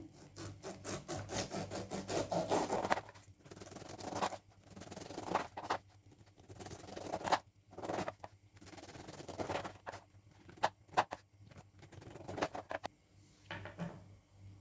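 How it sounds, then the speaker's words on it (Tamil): A knife sawing away the tough skin around a pineapple, repeated rhythmic rasping strokes with short pauses between cuts, close and fairly loud, no talking. "இப்போ பைனாப்பிளை சுற்றிலும் கட் பண்ணியாச்சு"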